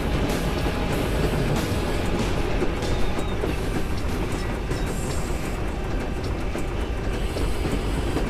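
A train rumbles along continuously in the video game Infernal, a dense, steady rolling roar with faint clattering, loud and without speech.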